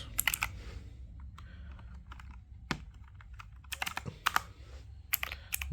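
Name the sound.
typing on a mechanical keyboard with blue switches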